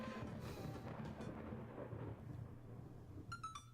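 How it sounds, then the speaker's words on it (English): Thunder rumbles in the video game Dream Daddy, low and steady over faint rain-like noise. A short bright sound cuts in near the end. "Thunder cracks and a door bursts open"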